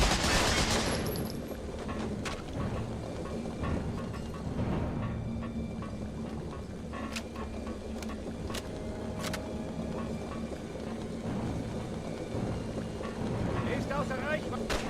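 Gunfire crackles in Medal of Honor Frontline on PS2, scattered sharp shots and short bursts over a steady rumbling background of water and wind, fairly distant and low in level, with voices talking over it.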